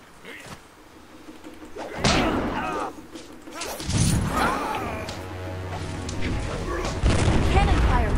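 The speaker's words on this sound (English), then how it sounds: "Cannon fire, look." Cannon fire in the video game Jade Empire, several heavy booms and crashing impacts at irregular intervals, loud over game sound and someone talking.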